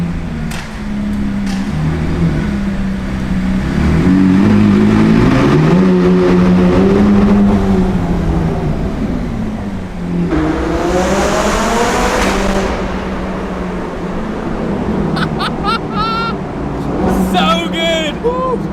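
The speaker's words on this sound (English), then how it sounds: "It's actually my first time redlining this car" A supercar engine climbs hard through its revs to redline, the rising tone sweeping up loud and close before easing and surging again, with tire and road noise beneath and people exclaiming over it.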